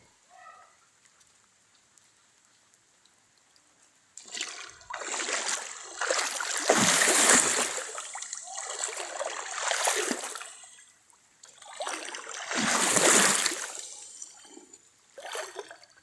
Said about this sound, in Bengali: এখন আমি এই পানিতে নামতেছি